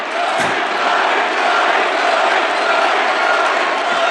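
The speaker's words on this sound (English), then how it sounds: "They're cheering an environmentalist." A large crowd at a Republican presidential campaign rally cheers and roars steadily, a dense, loud wall of voices that holds without pause throughout.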